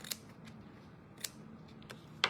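Scissors trim the edge of paper in a craft folio kit, giving a few faint, sharp snips spaced apart in a quiet room.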